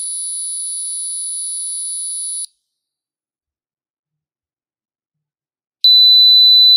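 A piezo buzzer driven by an Arduino sounds a steady, piercing 4000 Hz tone for about two and a half seconds, goes silent, then starts again near the end, loud and alone.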